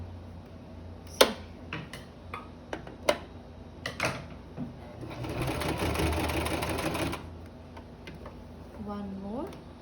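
A sewing machine stitches seams on a fabric mask, its needle ticking in short bursts and then running in one steady whir before a pause, close and clear, with a voice speaking between the runs.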